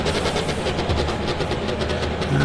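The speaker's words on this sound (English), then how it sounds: "we can hear the engine of that Mercedes roaring into life" A Mercedes race car engine in Project CARS at an endurance round at Le Mans, a steady, loud pulsing drone with a low rumble running throughout, no voices over it.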